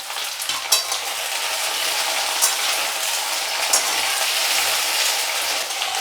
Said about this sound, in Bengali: আমি একটু ঢাকা দিয়ে আলুটা ভাজি